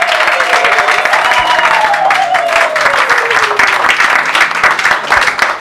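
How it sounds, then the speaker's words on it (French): Guests at a civil wedding ceremony burst into sustained applause, a dense, steady clapping from a nearby crowd that fills the room throughout, with a voice carrying faintly beneath it. "On applaudit."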